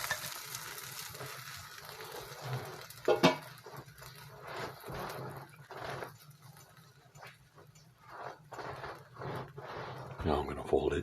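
A two-egg omelet with green onions fries in a pan, giving a steady crackling sizzle with bursts of popping while someone talks over it.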